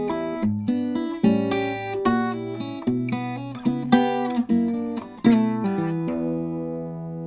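Fingerstyle blues guitar playing a walking bass turnaround in E, plucked bass notes stepping under ringing chords and short licks for about seven seconds, close and clear, ending on a sustained chord with no speech.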